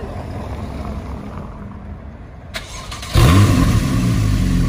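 A naturally aspirated Porsche 911 Carrera 4S flat-six starts up: a quiet background gives way to the starter catching, then a sudden loud rev that holds as a strong, close engine roar.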